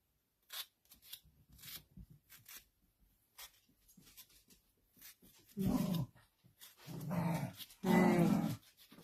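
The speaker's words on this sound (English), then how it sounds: "The big dog is up here with the little dog" Dogs, one big and one little, growling and grumbling close by in short uneven bursts, rising to two louder, rougher snarls toward the end.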